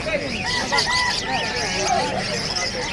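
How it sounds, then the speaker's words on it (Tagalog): Chickens clucking and squawking together, several birds calling over one another in a busy, continuous chatter. "Mga manok."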